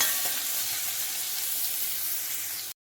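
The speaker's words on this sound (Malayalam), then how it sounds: "ഒരു സവോളയും കറിവേപ്പിലയും കൂടി ചെറുതായിട്ട് അരിഞ്ഞത് എന്നിട്ട് കൊടുക്കാം. ഒന്ന് ചെറുതായിട്ട് ചെറുതായിട്ട് വഴറ്റിയെടുത്താൽ മതി." Onion and curry leaves sauté in hot oil with mustard seeds, giving a loud continuous hiss of frying up close that cuts off abruptly near the end.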